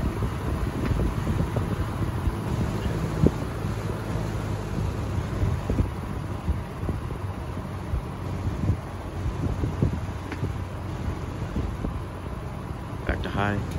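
A repaired Dominion motor, freshly taken apart and oiled, runs with a steady, smooth mechanical whir and airy hum, fairly close and continuous, with no talk over it.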